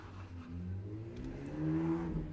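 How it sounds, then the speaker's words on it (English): A car engine in the city-building game Cities: Skylines hums and revs, a low, faint, steady drone that rises slightly in pitch toward the end, with no talk. "I'm so proud of you out there with your big motor car, making all of your noises"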